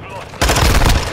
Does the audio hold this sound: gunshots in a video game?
yes